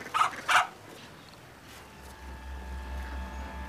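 A dog gives two sharp barks early on, then falls quiet under low background rumble, in a fantasy film set outdoors near a house with children.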